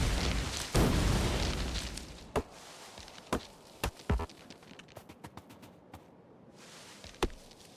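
Grenade explosions in the video game Factorio: one big booming blast followed by a string of sharper, shorter bursts at irregular intervals, loud and close with no talking.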